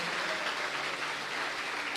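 A church congregation applauds during a sermon on faith, giving a brief, continuous burst of dense clapping from many hands that stays steady throughout, with no voices.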